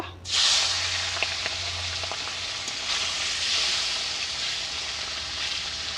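Food drops into hot oil in a wok and a loud sizzle bursts up, then settles into a steady crackling hiss, close by.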